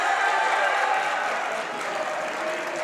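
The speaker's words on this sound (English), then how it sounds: "The crowd is getting pumped" A boys' high school basketball crowd in a gym cheers and applauds as a player goes to the free-throw line, a dense, steady roar that stays loud throughout.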